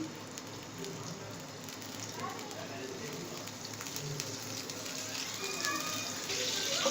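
Butter, 50 grams, sizzling as it melts in a lightly heated pan for dal makhani, a soft continuous crackle that grows slightly louder toward the end.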